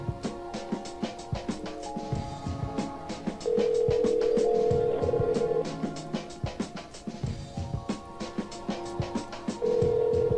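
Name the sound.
telephone ringing while calling Nick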